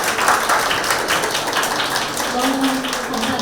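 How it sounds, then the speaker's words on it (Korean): Audience applause for a French chef after a live cooking demonstration at a talk event, steady broadband clapping filling the whole stretch at moderate loudness, with a voice faintly under it. "큰 박수 부탁드리겠습니다"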